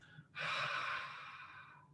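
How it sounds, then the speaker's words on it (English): Ujjayi breathing through a constricted throat makes a sustained, soft hissing breath, a steady airy rush lasting over a second after a brief faint intake, close and quiet with no talking. "it might sound like a wheezing sound, or the sound of, sometimes we say it's Darth Vader breathing"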